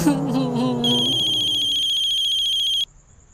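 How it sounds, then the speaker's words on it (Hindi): A phone ringtone chimes in a steady, bright electronic pattern for about two seconds, starting just as a voice trails off, then cuts out abruptly. "मम्मी का फोन आ रहा।"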